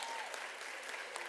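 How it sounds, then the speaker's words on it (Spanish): A crowd at a community dance event gives steady, dense applause for the dance groups, a continuous wash of clapping throughout. "Fuerte el aplauso para ustedes"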